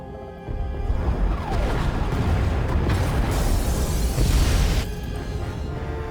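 A heavy explosion tears through the pod bays in Star Wars: The Old Republic, a dense roaring blast that rumbles steadily for several seconds before easing off, with no voices over it.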